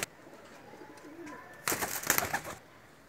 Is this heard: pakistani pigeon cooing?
yes